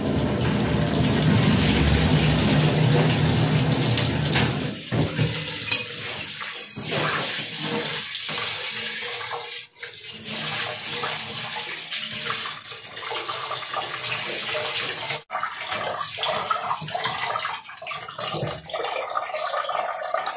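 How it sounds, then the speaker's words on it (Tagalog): Strong running water pours and splashes continuously at close range, a broad rushing flow with uneven surges and a few brief dips, and no voices over it. "Grabe na dyan ang tubig."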